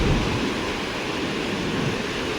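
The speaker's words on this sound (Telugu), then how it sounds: "Just listen the sounds of the water." Flowing water of the Champavathi river near a dam at Saripalli, a steady full-band rushing roar that stays loud and constant throughout, with no voices.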